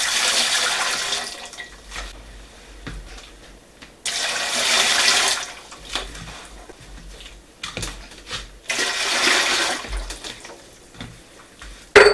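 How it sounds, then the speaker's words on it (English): Water gushes into a large pressure canner in three separate bursts, each a loud rushing pour, with quieter pauses between them. "I'm going to fill my pressure canner with 3 quarts of water"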